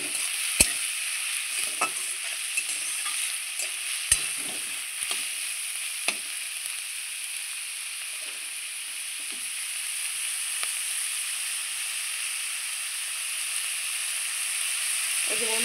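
Banana flower (mocha) frying in a pan makes a steady hissing sizzle throughout, close and even, with a few sharp clicks of a utensil against the pan early on.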